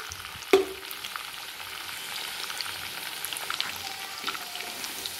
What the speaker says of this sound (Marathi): अशा ब्राऊन कलर येईपर्यंत आपल्याला ते तळून घ्यायचे आहे, कडक होईपर्यंत।